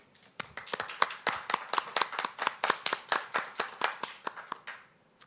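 At a Cornerstone Institute 2020 graduation, hands clap for the graduates in a crisp, steady rhythm of roughly twenty distinct claps, close and clear, swelling slightly then fading out at the end.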